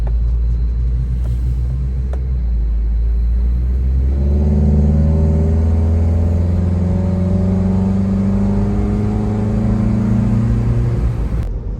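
A Honda Element drives along with a steady low engine rumble that grows as it accelerates, heard from inside the cabin, loud and continuous with no talking.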